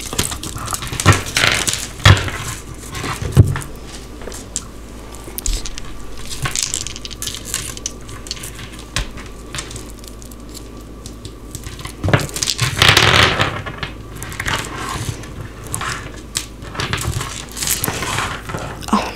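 Dice are thrown and rolled, giving a long run of rattling clatters and knocks, loud and close, in uneven bursts with brief quieter gaps.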